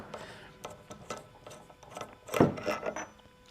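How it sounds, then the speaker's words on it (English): Bolt being removed from a Jeep front suspension assembly: faint, close mechanical clicks and ratcheting metal scrapes in short irregular bursts, with one louder grinding clank near the end, in an otherwise quiet garage. "let me take this bolt out because I got to show you what this looks like"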